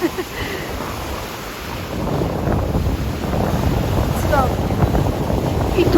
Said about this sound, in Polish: Tutaj to jest fala, co?